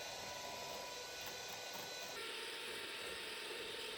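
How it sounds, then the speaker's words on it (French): An electric hand mixer beats eggs and sugar into a creamy batter, a steady continuous mechanical whir with a rattling texture that shifts tone slightly partway through, running alone without talk. "à l'aide d'un batteur pâtissier, je vais venir battre environ 2 à 3 minutes"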